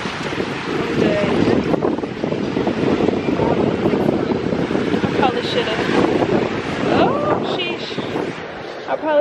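Ocean waves slosh and splash close by around a boat seat on a deep-water boat trip, with steady wind buffeting the microphone throughout and someone speaking briefly over the rushing water.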